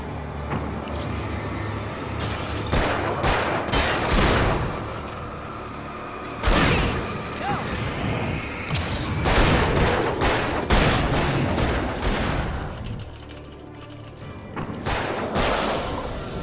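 Repeated loud gunshots fired into the air in the Alan Wake game, sharp cracks spread irregularly across the whole stretch over dense ambient game noise.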